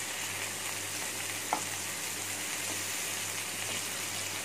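Boneless chicken tikka pieces fry in a pan under a steady close sizzle, with occasional soft taps and scrapes as each piece is flipped over one by one.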